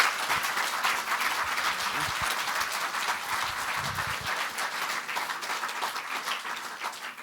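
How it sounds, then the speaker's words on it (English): Steady audience applause at a live youth forum event, many hands clapping continuously at an even level throughout, with no speech over it. "I would like to maybe give an applause"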